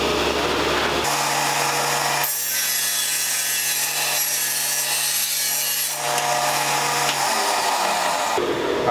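A table saw rips a sheet of plywood with the fence set at 9.5 inches, a steady loud whine of the blade biting through wood for several seconds, with motor hum at start and end and no talking.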